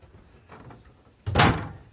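A wardrobe door in the bedroom of a 2021 Forest River Arctic Wolf 3990SUITE RV opens, with light handling sounds and then a sharp close-up thunk and rattle as the door swings open.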